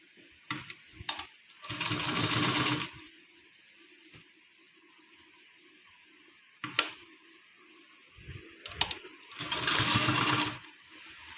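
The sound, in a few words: sewing machine stitching fabric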